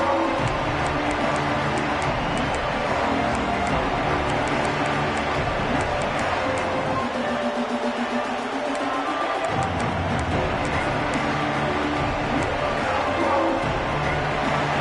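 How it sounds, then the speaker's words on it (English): Football stadium crowd at a game roaring, a dense, loud continuous wash of massed noise with a brief lull in the low end midway, heard close and sustained throughout. "This crowd bringing an ear-splitting welcome to their visitors"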